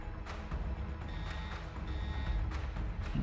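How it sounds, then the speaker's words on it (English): Alarms sound aboard a ship in the space strategy game Battlestar Galactica: Deadlock: thin, repeating electronic tones pulse faintly over a steady, rumbling hum of background noise. "And we're getting alarms everywhere."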